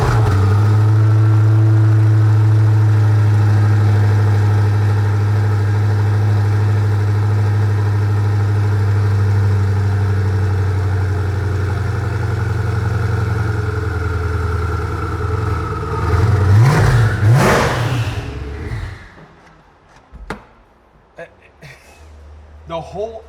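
A hypercar engine idles with a deep, steady low rumble, then revs sharply with a rising and falling roar before cutting off into near quiet, loud and close indoors.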